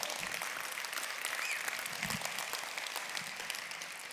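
Convention audience at a global company gathering applauding steadily, a dense wash of many hands clapping that holds at an even level throughout with no talk over it.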